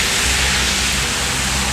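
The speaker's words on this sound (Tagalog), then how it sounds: "Habang ako'y nakaupo dito, biglang bumuhos ang ulan." Heavy rain pours down steadily in a dense, continuous roar of broadband hiss, loud and close, with no voices.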